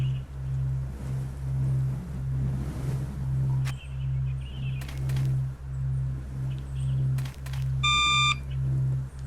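A detector in the video game Still Life 2 reacts to an aluminum can with a steady pulsing electronic drone, then a short, bright beep near the end, with faint scattered clicks along the way.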